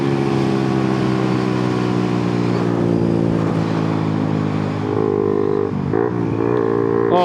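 A 2024 Suzuki GSX-R125 motorcycle pulls hard in fourth gear from about 44 mph, its small engine droning loudly and steadily with rising pitch from the rider's position, wind rushing over it, no speech.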